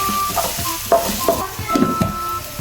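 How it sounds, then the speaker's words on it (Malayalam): Chopped onions roast in a pan with curry leaves. The sizzle of frying runs under repeated scraping and stirring strokes of a utensil against the pan. "ഇത് നല്ലപോലെ ഒന്ന് റോസ്റ്റ് ചെയ്തെടുക്കണം."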